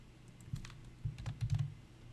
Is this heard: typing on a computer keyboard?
yes